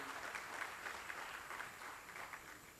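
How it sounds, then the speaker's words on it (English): An audience applauds, a dense, even patter of many hands clapping at a moderate distance, steady for a few seconds. "Please give a huge round of applause for Srimati Hema Malini ji."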